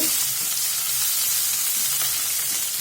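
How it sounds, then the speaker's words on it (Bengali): Chopped onion fries in hot oil in a pan, giving a steady, loud, continuous sizzle with faint stirring throughout. "পরিমাণ মতো পেঁয়াজ কুচি দিয়ে দিলাম।"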